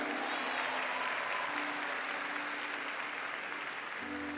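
An audience in a Catholic worship setting claps continuously, a dense, even wash of applause that holds steady throughout at moderate volume.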